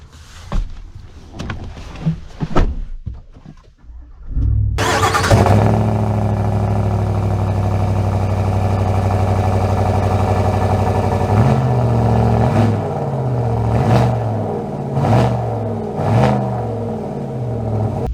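A 2024 Chevrolet Silverado Black Widow pickup truck starts up with a loud roar and settles into a heavy, steady engine drone, followed by repeated swells as it revs and pulls away while driving.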